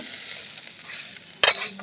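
Fried spice mixture goes into a pot of khichuri for an offering meal, a soft sizzle followed by a sudden louder burst of hissing near the end, close up, with no speech.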